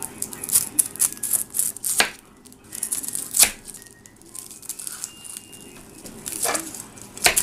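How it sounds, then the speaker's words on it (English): A knife cuts into an onion on a board, giving scattered uneven clicks and scraping taps at close range over faint room noise, with no talking. "Kristin's attempting to cut the onion in half."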